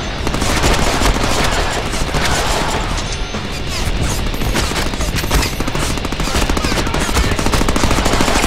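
Sustained rapid gunfire from the Deadpool video game, a loud continuous rattle of shots that runs for several seconds over dense background noise and crashing impacts.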